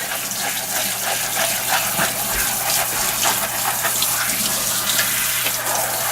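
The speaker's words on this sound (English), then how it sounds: "you want to just repeatedly let the gloves fill with water and squeeze them out" Goalkeeper gloves are repeatedly filled with water under a running tap and squeezed out over a sink, a steady close gush of water with brief squelching bursts throughout.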